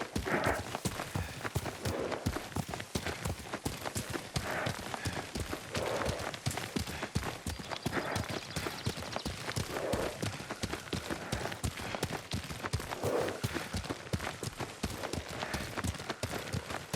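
Horse hooves gallop in the Ghost of Tsushima video game, a fast, continuous clatter of hoofbeats on the ground with steady rhythm, moderately loud and up close, with no talking over it.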